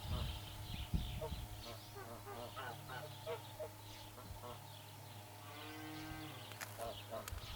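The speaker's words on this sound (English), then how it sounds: "There is a cow in that yard" A cow moos outdoors in a rural Russian village amid honking geese and other farm animal calls, with a steady low hum and a person talking nearby.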